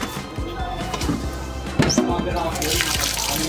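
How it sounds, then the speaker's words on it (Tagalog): Mung beans are rinsed in water to wash off salt, giving a continuous close-up swishing and splashing in a bowl, with occasional drips and sloshes. "Tapos, hugasan na natin para matanggal yung asin."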